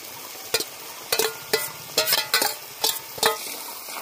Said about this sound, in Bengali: সব কিছু একসাথে আমি ভালো করে এবার কষিয়ে নেব। মশলা শুটকি মাছের সাথে ভালো করে কষাতে থাকবো